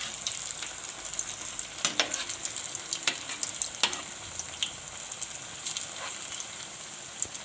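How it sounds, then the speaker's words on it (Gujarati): Gujarati cutlets fry in hot oil with a steady, crackling sizzle that runs throughout, broken by a few sharper pops and spits, close and fairly loud with no voices. "તો આ રીતે આપણે તળવા દઈશું આને."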